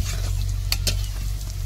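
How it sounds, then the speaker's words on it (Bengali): Potatoes fry in a pan with a low, constant sizzle, punctuated by a few quick clinking stirs of a utensil against the pan. "আলুটা প্রায় আমার ভাজা ভাজা হয়ে গেছে, লাল লাল হয়ে গেছে"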